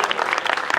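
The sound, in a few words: audience applause for award winners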